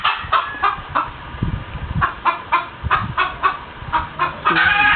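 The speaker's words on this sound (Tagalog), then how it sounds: "merong inahin na nanganganak" Hens cluck in a steady, repeated patter, several short clucks in quick succession with other birds faintly mixed in nearby.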